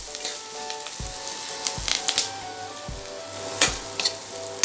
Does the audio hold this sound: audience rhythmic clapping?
no